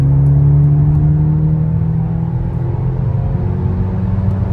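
A car pulling hard under acceleration, its engine droning loud and close with a rising, sustained rumble heard from inside the cabin.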